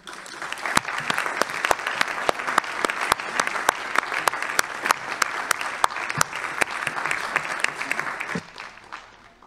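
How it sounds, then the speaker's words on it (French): Audience applause for the president at a Grand Annecy citizens' forum meeting, steady sustained clapping from a room of people with sharp individual claps standing out, fading at the end. "vous méritez nos applaudissements pour vos 10 ans passés aux côtés du Grand Annecy"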